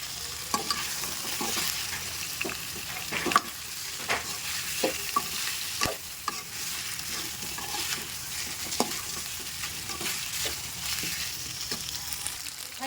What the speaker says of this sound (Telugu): అదేవిధంగా గుప్పెడు కరివేపాకును కూడా వేసి వేయించుకుందాం.